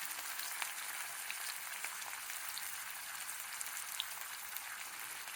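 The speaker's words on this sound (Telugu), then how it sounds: "ఉల్లిపాయలు కొంచెం వేగాలి అన్నమాట" Chopped onions and curry leaves frying in hot oil for a bitter gourd masala, giving a steady, close crackling sizzle with tiny pops throughout and no talk.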